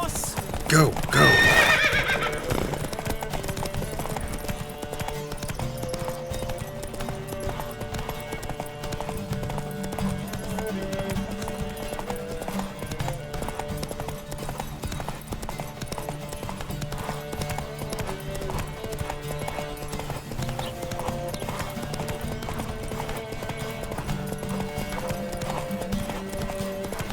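A horse gallops with steady hoofbeats and gives a loud neigh at the start in The Witcher 3, under continuous game music with voices speaking over it.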